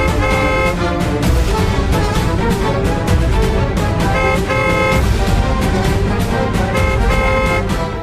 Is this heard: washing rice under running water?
no